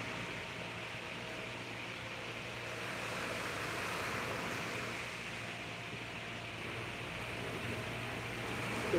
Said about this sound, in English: The waves sound nice right now.